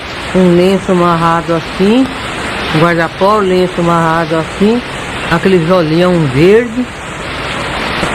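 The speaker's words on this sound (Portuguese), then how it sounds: "Esse ruído que nós estamos ouvindo é que está chovendo demais aqui no momento" Heavy rain pours down outside during an interview, a steady broad hiss running beneath continuous Portuguese speech from a woman.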